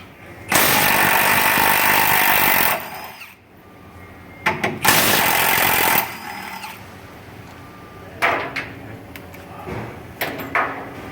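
A Milwaukee cordless power tool runs in two loud, close bursts of whirring in a garage during 7.3 Powerstroke transmission work, followed by quieter clicks and mechanical clunks.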